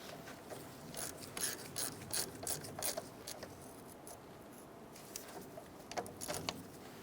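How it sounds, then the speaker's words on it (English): Ratchet snugging down the caliper bolts on a 1993-1997 Ford Ranger front wheel assembly: quick, faint clicking bursts in irregular runs, close by with no talking. "I'm going to go ahead and snug these down."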